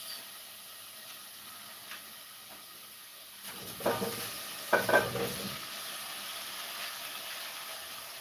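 Mackerel frying in a pan gives a soft, steady sizzle, with a couple of louder hissing spurts in the middle as the fish is moved.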